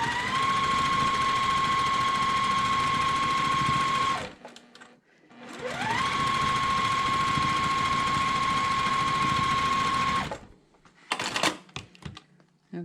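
A sewing machine stitches a quarter-inch quilt seam with shortened stitch length in two long steady runs, a whirring motor whine under rapid needle clatter, separated by a short pause and followed by brief clicks and handling noises.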